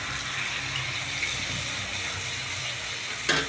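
Chickpea flour batter pours steadily into a hot pan for Bombay chutney, a continuous soft gushing, sizzling wash of liquid close by, ending with a brief louder splash.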